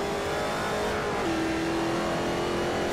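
In the Forza Motorsport 4 racing game, a modern Ford Mustang drives close behind another car, its engine droning loudly and steadily with the pitch shifting slightly.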